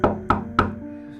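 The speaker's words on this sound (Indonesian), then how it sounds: "Hanya ketukan pintu secara terus-menerus" Three firm knocks on a door, evenly spaced about a third of a second apart, close and distinct, followed by a low lingering tone; set in a horror story with no voices.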